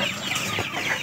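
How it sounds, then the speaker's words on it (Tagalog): Darag native chickens clucking on a farm, a steady chorus of soft clucks close by with no talk over it. "Dami ng mga manok."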